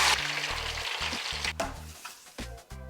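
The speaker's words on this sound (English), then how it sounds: "we got flour sizzling by a landslide" Flour-dredged chicken fries in hot peanut oil, giving a steady crackling sizzle that fades slightly as low blocky tones play underneath.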